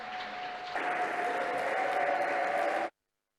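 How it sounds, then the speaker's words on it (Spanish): Audience applause for a panel on climate justice, a dense steady burst of clapping that swells after a moment, holds loud and even, then cuts off abruptly. "un fuerte aplauso para ellos"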